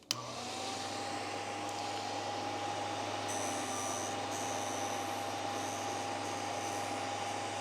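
A VEVOR drill bit sharpener runs steadily while grinding a drill bit, a constant motor whine with a high hissing edge that stays even throughout, fairly faint and heard alone.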